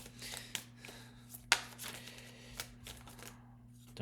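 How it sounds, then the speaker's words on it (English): Cards riffle and slide in soft, irregular bursts of shuffling, close and quiet over a low steady hum, with one sharper snap midway. "Last little shuffle"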